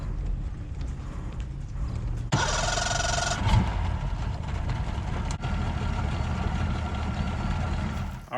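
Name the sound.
boat motor running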